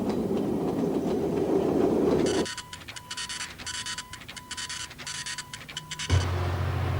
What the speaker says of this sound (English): Traditional West Coast train of cement and coal.